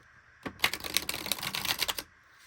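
Tarot deck being shuffled by hand, a crisp burst of rapid riffling card clicks lasting about a second and a half, close and alone in a quiet room.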